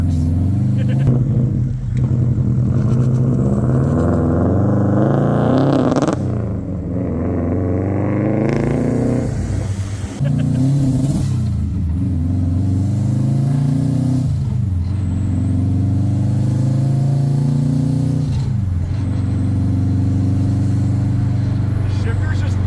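A drift car engine revs loudly and close by, its pitch climbing and dropping through several gear changes, with brief pauses between pulls and voices talking over it.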